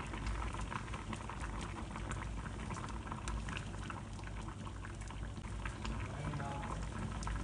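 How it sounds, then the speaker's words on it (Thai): Soybean paste stew boils hard in a pot, a dense, steady bubbling and spattering that fills the whole stretch, close and loud with no talk. "ตอนนี้เราก็ นี่เดือดดีแล้วนะคะ"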